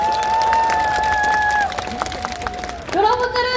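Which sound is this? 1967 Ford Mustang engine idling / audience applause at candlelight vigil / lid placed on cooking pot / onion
audience applause at candlelight vigil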